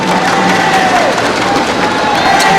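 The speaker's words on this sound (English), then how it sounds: "And that brings the crowd to its feet." Crowd cheering and shouting at a badminton match after a long rally in an Axiata Cup 2012 group tie, a steady loud roar that holds for the whole stretch with no talk over it.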